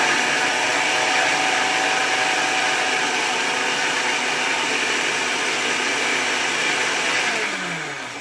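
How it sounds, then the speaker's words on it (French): A blender whirs steadily with water added to the ingredients, a loud continuous motor drone that holds for several seconds and eases off slightly at the end. "Je vais rajouter un peu d'eau pour mixer le tout."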